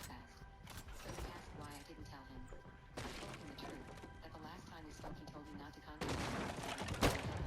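Bursts of rapid gunfire crackle through a Fortnite match, coming in waves with a louder volley near the end, mixed under people talking.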